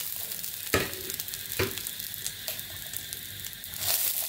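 Fresh red chillies fry in garlic oil in a pan for a quick pickle, making a close, steady sizzle broken by a few sharp scrapes and clicks of stirring, with no talking.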